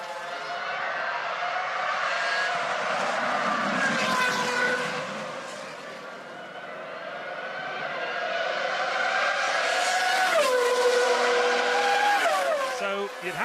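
Formula 1 cars racing at Monza during the 2006 Italian Grand Prix, engines screaming at high pitch with rising and falling gear shifts as cars pass, loud and continuous, with race commentary talking over them.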